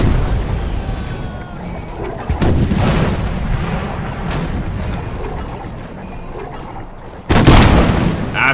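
Cavalry open fire in the Imperial Splendour strategy game, a loud, dense rumble of musket and artillery booms rolling continuously with a heavy burst near the end, with a voice talking faintly beneath.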